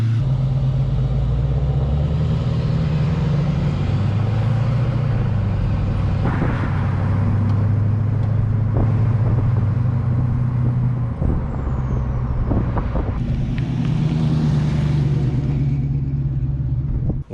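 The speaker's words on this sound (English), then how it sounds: "that's the best sounding exhaust I've ever had" A vehicle exhaust rumbles with a deep, steady low drone close by, with shifting engine tone and a few brief hissing bursts partway through.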